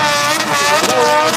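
A motorcycle engine revs hard and loud at a stunt show, a steady high-pitched roar with rising and falling pitch, heard up close and without talk.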